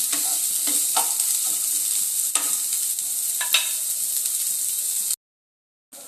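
Spices sizzle and crackle steadily in hot oil in a pan while being fried until reddish, a loud continuous hiss with occasional stirring scrapes, then cutting to near silence for the last second.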